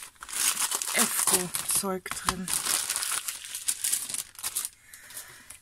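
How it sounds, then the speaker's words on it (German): The paper door of a 2019 advent calendar is torn open, with close crinkling and ripping over a few seconds while someone speaks German over the sound. "das ist wirklich sehr schön, das Papier, aber ich reiße auf"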